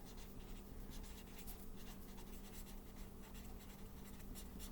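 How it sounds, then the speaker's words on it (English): A marker writes a name on paper, the tip squeaking and scratching in steady strokes against a constant low hum, close and fairly quiet with no talking. "I'm just using a marker so you can see."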